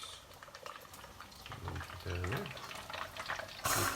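Battered fish for Alaskan-style fish and chips frying in hot oil, with a soft steady bubbling sizzle that swells louder near the end and a few low thumps in the middle.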